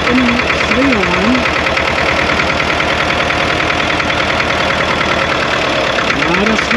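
A Deutz tractor pulls away in first gear of the low range, its diesel engine chugging steadily and loudly close by throughout, with someone talking over it.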